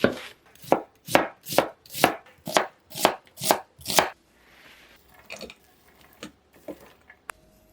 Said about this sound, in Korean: 양파는 반으로 자른 다음 다시 반으로 자르고 얇게 슬라이스 해줄게요